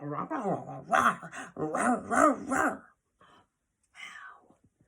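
A voice imitates a dog barking while reading a children's story aloud, giving a few close, breathy woof-like yelps in quick succession, then a short faint yelp after a pause.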